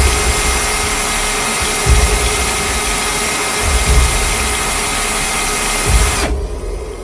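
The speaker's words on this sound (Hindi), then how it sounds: "सिकंदर के सर में अपने आप ही एक जादुई ड्रिल लग जाती है" A cartoon magic drill bores down into the earth with a steady, loud grinding whir that runs unbroken, with low thumps swelling now and then, before it cuts off abruptly near the end, leaving a faint hum.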